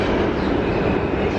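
A train rumbles past nearby, a loud, steady low roar of rolling wheels and cars with no speech over it.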